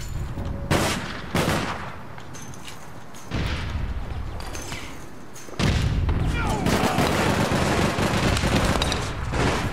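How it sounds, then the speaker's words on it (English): Gunfire from the video game APB Reloaded crackles in continuous bursts and volleys, loud and dense throughout, with a player's voice talking over it. "I'm getting shot from the other side"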